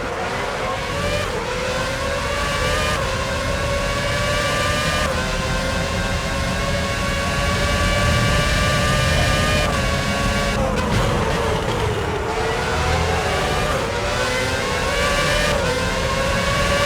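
An F1 car in the F1 06 video game pulls out of the pits with a loud, high-pitched engine whine that rises through gears in repeated revving climbs, steady and close throughout.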